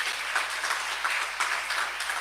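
A church congregation clapping together in praise, a steady, moderately loud patter of many hands with a loose rhythmic pulse.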